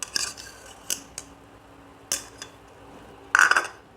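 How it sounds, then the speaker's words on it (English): A raw egg whisked in a bowl during home cooking, with a few short, scattered bursts of scraping and clinking from the utensil against the bowl, nearby and moderately loud, with quiet gaps between them. "I already crushed 1 egg. Beat it first."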